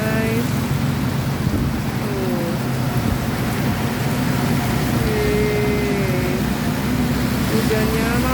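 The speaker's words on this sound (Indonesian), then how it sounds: "Ya Allah, hujan gede banget guys." Heavy rain with strong wind in the Perumnas area of Cirebon, a dense, steady roar of downpour with low rumbling, continuous and loud throughout.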